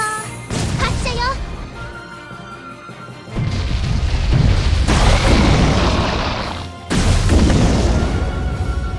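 Main cannon fire in the Abyss Horizon mobile game sounds as repeated heavy booms with rumbling tails, and a spoken voice line opens over electronic game sounds.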